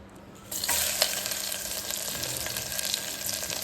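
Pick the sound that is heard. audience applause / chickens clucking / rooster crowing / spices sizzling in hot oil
spices sizzling in hot oil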